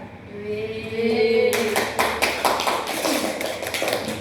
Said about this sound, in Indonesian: Tepuk tangan sekali lagi untuk Mbak Ayu